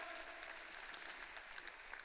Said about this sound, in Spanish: Alguien que le aplauda a Jesucristo, el Rey de Gloria, por favor